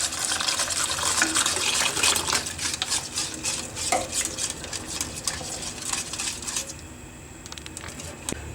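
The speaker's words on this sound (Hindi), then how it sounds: "साथ ही इसमें नीम गर्म जो दूध है वो डाल दें और साथ साथ इसको चमचा जो है चलाते रहें" A spoon stirs egg whites with lukewarm milk in a bowl, with steady scraping and clinking strokes that continue without pause, close and fairly loud, and no one speaking.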